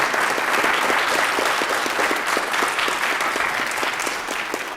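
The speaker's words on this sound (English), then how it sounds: "Give him a clap." An audience claps steadily, a dense wash of applause that holds strong and tapers slightly toward the end.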